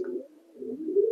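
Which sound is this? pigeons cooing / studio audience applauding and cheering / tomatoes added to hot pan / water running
pigeons cooing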